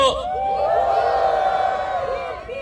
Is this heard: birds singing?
no